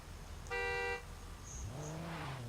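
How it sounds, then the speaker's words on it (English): A single short car horn honk at a night drift qualifying session in a parking lot, followed by the car's engine starting to rev and pull away. "just give that car a honk and then you may go"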